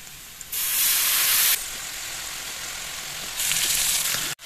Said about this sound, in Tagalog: Gigisa natin ang paksiw. Luya at bawang.